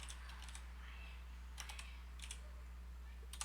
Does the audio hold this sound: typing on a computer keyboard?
yes